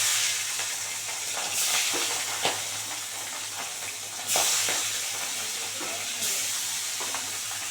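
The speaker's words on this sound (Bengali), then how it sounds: "এবার আরও কটা ভেজে নেব।" Tengra fish fry in hot oil in a pan, a continuous close crackling sizzle with occasional sharper spatters and bursts of hissing.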